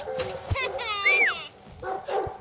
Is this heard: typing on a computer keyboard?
no